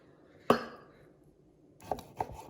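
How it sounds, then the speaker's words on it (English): A knife cuts raw pork belly into long thin strips on a board: one sharp, loud chop, then a pause, then two softer cuts close together. "Anthony's just going to slice down into long, thin strips"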